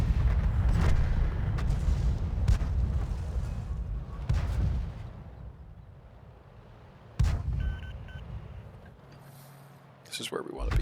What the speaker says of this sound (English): Just going to take a shot while this is still aiming.